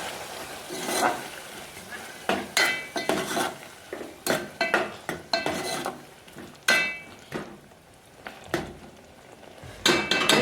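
A spoon stirs sev tameta curry in a pan, giving repeated clinks and scrapes of metal on the pan in irregular bursts over a faint background, with no talk.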